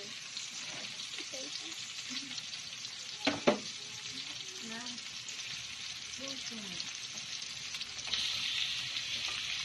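Shrimp sizzle and fry in a pan as a utensil stirs them, with a steady close hiss and a few louder scraping clatters around the middle; the frying swells slightly toward the end.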